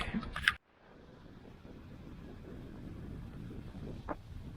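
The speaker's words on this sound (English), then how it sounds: "A little windy right now." Steady wind at Pictured Rocks buffets the microphone in a low, continuous rumble, with a brief sharper gust near the end.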